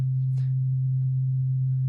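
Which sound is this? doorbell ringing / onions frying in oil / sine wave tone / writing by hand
sine wave tone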